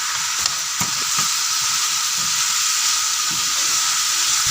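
Chicken frying in a pan with green chilies, mint, black pepper, red chili and cumin powder gives a steady, close sizzle, with a few soft stirring knocks. No one speaks.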